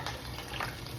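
Water runs into a pot for chicken soup, a faint, steady splashing and trickling over about a second.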